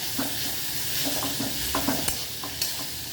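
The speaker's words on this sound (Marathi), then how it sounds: "तेलावरती फ्राय करायचे एकदम कडक।" Vegetables fry in hot oil as they are stirred, a steady close sizzle broken by several light scraping and clinking strokes of the spoon against the pan.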